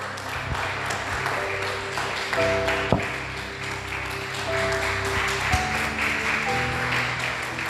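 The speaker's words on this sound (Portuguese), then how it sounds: "Aplauda o Senhor bem forte." A church congregation applauds steadily and fairly loudly, a dense wash of clapping that carries on for several seconds, with sustained musical tones from an instrument ringing underneath.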